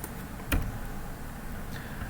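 One short click of a computer keyboard key being pressed, a single brief tap over faint steady room noise.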